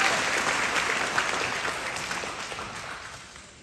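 An audience at a Pittsburg, Texas high school ceremony for senior college commits bursts into sustained clapping from many hands, a dense, even applause that gradually fades over a few seconds.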